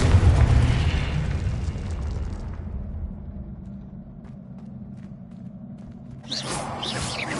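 A Confringo fire spell explodes in the PS5 game Hogwarts Legacy: a heavy boom with a rolling rumble that fades over several seconds, then a fresh crackling burst of effects near the end, with no talking.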